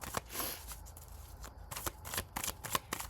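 Rapid riffle-shuffling of playing cards, a series of crisp fluttering bursts close up, with a few short pauses between riffles.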